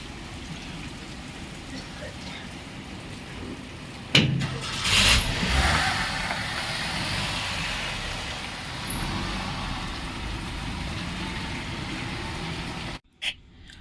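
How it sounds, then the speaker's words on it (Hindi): Heavy rain falls steadily outdoors while a father drives his daughter away in a car. The rain keeps up a constant hiss throughout, a car door thump and engine noise rise nearby midway, and a sharp knock comes near the end. "क्योंकि बारिश हो रही है बहुत तेज़ अभी भी"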